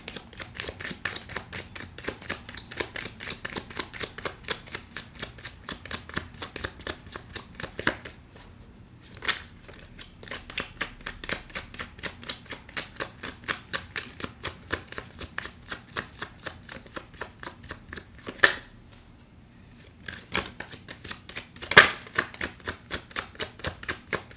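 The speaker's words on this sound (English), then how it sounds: "let's get another oracle card, and then we're gonna delve deep" Oracle cards shuffled by hand in a fast, steady riffling patter that runs almost continuously, with brief pauses and a couple of sharper card snaps near the end, close and fairly quiet with no talking.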